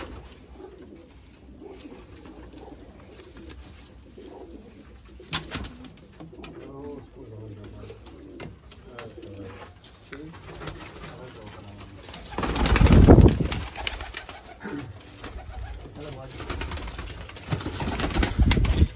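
Sialkoti pigeons coo softly in a loft, with low repeated coos and occasional wing flaps, a louder burst near the end, and faint voices in the background.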